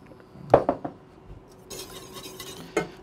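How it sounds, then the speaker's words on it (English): A whisk scrapes and clinks against a pan while fresh raspberries are broken down into a port wine sauce, giving a few sharp metallic taps followed by softer stirring swishes, close and alone. "Make sure you break them down when you're whisking them"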